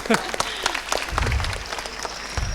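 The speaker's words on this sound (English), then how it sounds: "Give a round of applause" Audience applause at a lecture, a crowd clapping steadily with a brief rising burst at the end, with a voice speaking briefly at the start.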